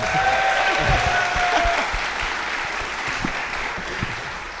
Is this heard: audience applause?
yes